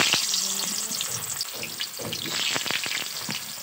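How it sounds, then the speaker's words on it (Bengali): Potato pieces for chicken biryani dropped into hot oil in a kadai, bubbling and frying with a busy crackling sizzle and a few spatula knocks close by. "এখন আমি আলুগুলো তেলের মধ্যে দিয়ে দিচ্ছি"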